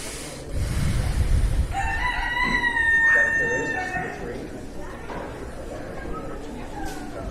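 A rooster crows at a county fair poultry show in O'Brien County, its stretched, wavering call rising over a steady crowd murmur and hall noise, with a voice talking nearby.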